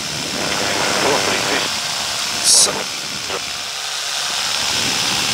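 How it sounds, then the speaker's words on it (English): Paramotor engine running in flight on a cross-country trip from Bungendore to Crookwell, a steady buzzing drone with wind rush, a brief sharp burst midway and slight changes in tone. "I can lean out my engine a bit more. So the reduction in revs is because I'm now in ridge lift."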